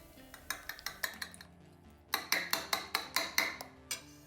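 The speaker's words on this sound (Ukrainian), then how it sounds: "До двох яєць я додаю одну столову ложку води і гарно збиваю." Rapid rhythmic clinking of a whisk or fork beating two eggs with a tablespoon of water in a bowl, two bursts of quick strokes separated by a short pause, close and clear.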